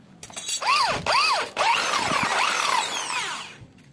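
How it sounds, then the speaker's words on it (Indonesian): A power drill whines loudly up close, its pitch rising and dipping as it revs and bites into a brake reservoir cap to enlarge a hole. "ini juga harus kita bor ya, besarin lubangnya"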